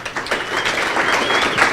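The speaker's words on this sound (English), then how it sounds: "Let's do a round of applause for Jeremy." An audience claps for a newcomer at a product-career talk, a short, fairly close burst of steady applause with no talk over it.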